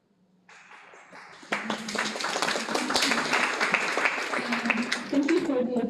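Freshman students in an audience break into applause, starting faintly, then swelling into loud, sustained clapping from many hands that carries on steadily.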